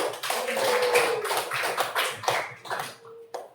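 Classroom applause from students during a lesson on circles: a dense, continuous burst of many hands clapping that holds steady for about three seconds, then thins out and stops.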